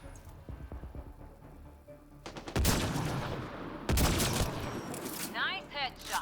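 Heavy bursts of gunfire in the sci-fi shooter Mass Effect: Andromeda, played on Insanity difficulty: loud rapid volleys come in two sustained stretches, with quieter scattered shots and game sounds before them.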